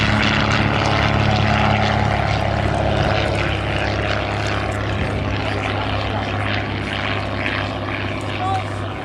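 Stampe biplane with an inverted Ranger engine of about 200 horsepower, flying at a World War II airshow weekend. A steady, loud propeller drone holds throughout without a break.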